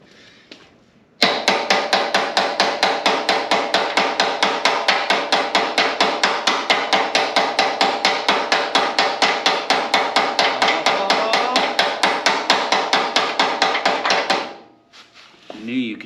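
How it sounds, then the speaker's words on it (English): Rapid, evenly spaced hammer blows on the frame of a daily-driver rat rod, loud and close, sustained for about thirteen seconds before stopping abruptly. "Hammer time."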